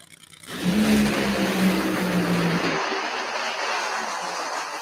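John Force's Funny Car makes a drag race run at the Northwest Nationals: a loud engine roar swells in abruptly, holds a strong droning tone for about two seconds, then gives way to a broad rushing noise as it recedes.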